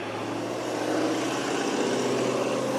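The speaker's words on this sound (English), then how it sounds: "sorry, noisy truck" A noisy truck passes by outdoors during a Christmas light setup, a steady broad rumbling roar that holds at a fairly even, moderate level throughout with no voices.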